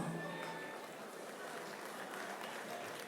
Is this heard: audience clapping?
yes